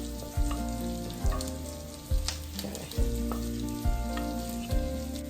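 Flour cooking in fat for a poutine gravy roux gives a steady close sizzle and frying hiss, with a low regular stirring or scraping sound about once a second and no talk.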